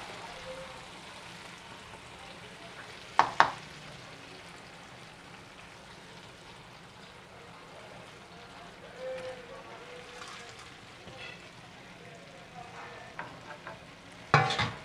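Khoka ilish fish frying in a pan with turmeric, a soft continuous sizzle broken by a few sharp clattering knocks from the pan and utensil.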